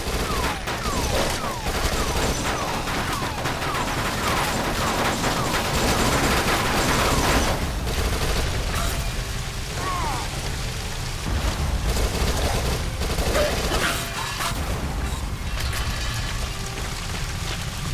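Submachine gun fire in the zombie shooter Dead Nation: dense, continuous rapid shots loud and steady throughout, blended with crackling impacts and chaotic game noise.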